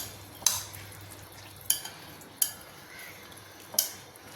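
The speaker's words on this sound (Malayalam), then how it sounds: "വെളിച്ചെണ്ണയും കൂടെ ഒന്ന് മിക്സ് ചെയ്യുക" A spoon mixes an onion salad dressed with coconut oil in a bowl, sounding four sharp, quiet clinks spaced irregularly over faint background hush.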